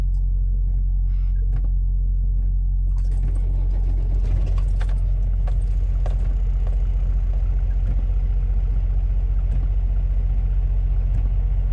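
A truck engine is restarted: a quiet idle-like hum gives way to a brief cranking catch and then a steady, deep rumbling idle that continues close and loud to the end.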